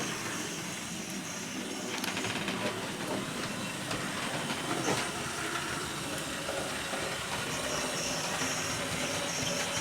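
A Bachmann Midland 4F model locomotive runs on track, giving a continuous soft whirring hiss with light clicking, steady and fairly quiet, with no voices.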